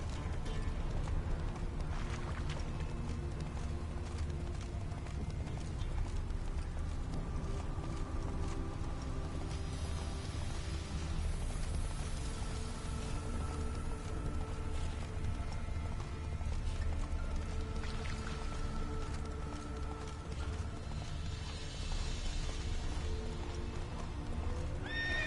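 Roach, Geralt's horse in The Witcher 3, gallops with rapid, rhythmic hoofbeats and occasional whinnies, set against a sustained tonal game score.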